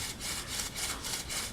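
Wooden bow drill spindle grinding into a wooden baseboard while starting a friction fire, a steady rapid back-and-forth rubbing rasp, close and loud with no voices.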